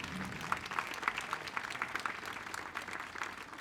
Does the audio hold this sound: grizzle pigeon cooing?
no